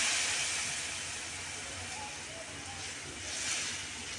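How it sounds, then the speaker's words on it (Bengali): Water poured onto spices frying in oil for a bitter gourd curry sets off a loud, steady steam hiss that dips a little and then surges again, heard up close. "একটু পানি দিয়ে দিলাম"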